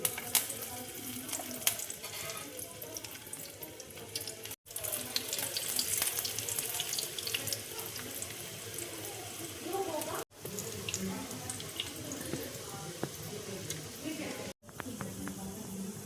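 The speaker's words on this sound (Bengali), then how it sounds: "তেল দেখো গরম হয়ে গেছে, এবার আমি এক এক করে তেলের মধ্যে ছেড়ে দিচ্ছি।" Veg paneer makhana cutlets shallow-fry in hot oil, giving a continuous crackling sizzle with a bright hiss that runs steadily for many seconds, broken by a few abrupt cuts.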